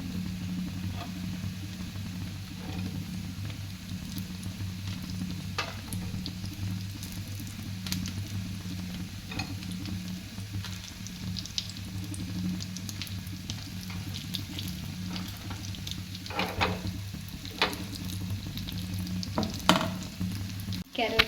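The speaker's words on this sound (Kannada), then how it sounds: "ಇಲ್ಲಿ ಡ್ರೈ ಫ್ರೂಟ್ಸ್ ಫ್ರೈ ಆಗ್ತಾ ಇದೆ" Dry fruits fry in ghee with a continuous close sizzle and crackle, occasional stirring clinks and scrapes rising near the end.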